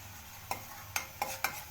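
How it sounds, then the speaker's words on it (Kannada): Masala being stirred and mixed in a pan over a low flame, with four sharp scraping clinks of a spoon against the pan over a faint sizzle, no talking. "ಈಗ ಇದು ಚೆನ್ನಾಗಿ ಮಿಕ್ಸ್ ಮಾಡ್ತಾ ಇದ್ದೀನಿ"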